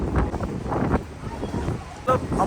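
Strong wind on a Goa beach buffets the microphone with a loud, rough roar. Surf sounds come and go beneath it, and the gusts surge and fall throughout.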